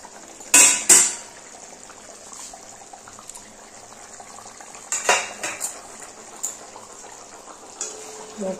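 A metal lid comes off a cooking pot of raw rui fish curry with two sharp clanks, followed by softer scattered clinks of metal cookware and a faint simmer in a quiet kitchen.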